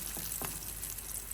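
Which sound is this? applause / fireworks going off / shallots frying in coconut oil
shallots frying in coconut oil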